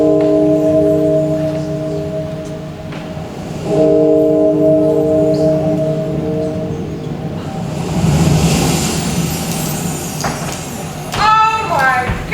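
A deep bell tolls twice with long ringing overtones, each strike fading slowly, before a wash of noise and faint chatter from a live improv audience takes over.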